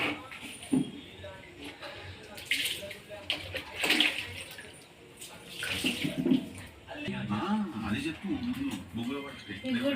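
Dishes are washed under running tap water in a home kitchen, with splashing and clinking coming in bursts over a steady faucet stream while someone talks throughout.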